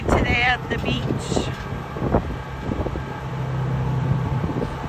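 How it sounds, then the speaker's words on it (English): Strong wind at the beach buffets the microphone in a steady low roar, with a voice talking over it at the start. "It is super windy today at the beach."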